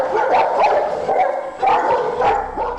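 Brazilian Mastiff barking in a run of short, loud woofs and yips, repeated in bursts close by with no voices.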